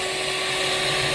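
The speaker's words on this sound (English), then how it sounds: "an electric whisk." An electric whisk beats Yorkshire pudding batter with a steady, dense high-pitched motor whine, loud and close, running continuously with no pauses.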